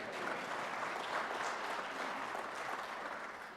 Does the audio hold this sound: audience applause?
yes